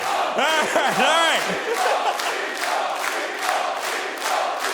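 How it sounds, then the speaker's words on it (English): A live esports crowd at a StarCraft 2 WCS Premier League quarterfinal cheers and chants in loud rhythmic waves, with shouted voices rising over the roar of the arena. "I can feel you guys cheering, but they've been doing this since Game 3"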